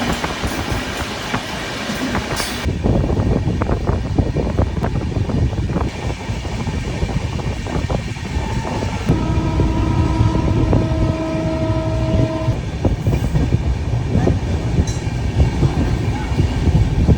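Loud, continuous rumble of a superfast train speeding non-stop through Ankleshwar railway station, with steady rattling and a brief sustained horn-like tone partway through.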